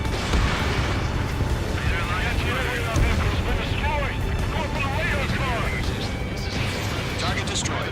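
Missile strikes and blasts in the aerial combat game Ace Combat 7 roar as a dense, continuous wall of rumbling explosions for several seconds, with radio voices talking over the din.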